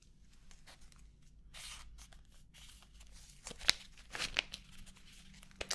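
Soft snipping and crisp cutting sounds of scissors trimming hair, a few sharper clicks of scissors near the end, over a quiet low hum.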